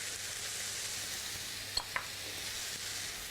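Spices (turmeric, cumin, garam masala, coriander powder) sizzling steadily in a hot pan for lentil dahl while tongs stir them, with a constant frying hiss and two brief scraping clicks of the tongs against the pan, no talk.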